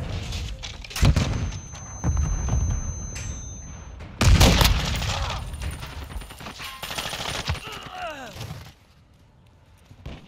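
Call of Duty multiplayer gunfire on the Border Crossing map: bursts of automatic fire and heavy booming shots come in several loud waves with short gaps between them, followed by quieter sounds near the end.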